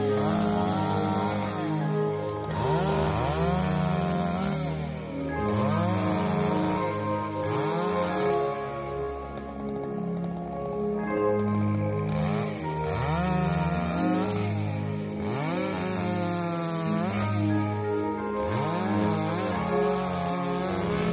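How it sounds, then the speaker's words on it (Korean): A chainsaw cuts down a large oak tree behind a grave site in January, snarling loudly and steadily close by, with repeated rises and dips in engine pitch as the bar bites and eases through the trunk. "종천 씨가 묘역 뒤쪽에 큰 참나무를 베어냅니다."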